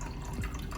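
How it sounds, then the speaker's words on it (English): A gin gimlet made with lime cordial, poured from a shaker into a chilled coupe glass: a short, quiet trickle of liquid with no one talking. "We're gonna pour right into our glass."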